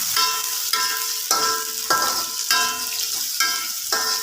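Noodles and egg are tossed in a hot pan with cinnamon and chilli, a steady sizzle broken by rhythmic metal scrapes and taps of the spatula, about seven regular strokes, close and clear with no talk.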